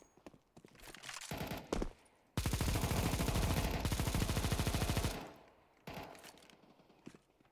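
Rapid bursts of automatic gunfire in Counter-Strike 2, loud and dense, with shorter shots before and after a sustained stretch of fire during a deathmatch.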